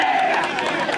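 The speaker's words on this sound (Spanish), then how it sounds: "Fuerte el aplauso para Albino Miranda" At the awards of a senior municipal football cup final, a crowd applauds and cheers the best goalkeeper, a steady wash of clapping and voices at moderate distance.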